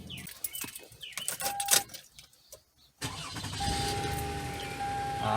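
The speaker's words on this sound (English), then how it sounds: "I'm gonna try to turn on the engine and see if it turns on." A Toyota Sienna with a crank-no-start fault, now fixed after a blown fuse: keys jangle, then after a brief silence the engine catches and keeps running with a steady, rough drone close by.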